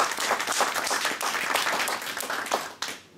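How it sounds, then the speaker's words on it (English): An audience applauds loudly at a talk, dense continuous clapping that fades out near the end. "please help me give them a big round of applause"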